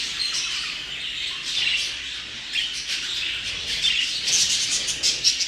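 Budgerigars at a breeding exhibition squawk and chirp continuously in a busy, high-pitched chorus, with sharper bursts of calls rising from the flock near the end.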